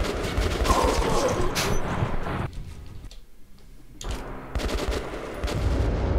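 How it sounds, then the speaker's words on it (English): Gunfire in Metro Last Light Redux comes as rapid, close bursts of shots that stop briefly for a quieter stretch, then resume with more loud automatic fire. "I don't get why Khan is shooting the ground like that"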